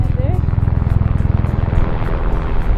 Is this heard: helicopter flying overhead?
yes